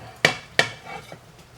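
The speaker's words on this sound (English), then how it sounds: "put this back in my pan" Two sharp knocks of food being dropped back into a frying pan, close and distinct, followed by a faint soft clink in a quiet kitchen.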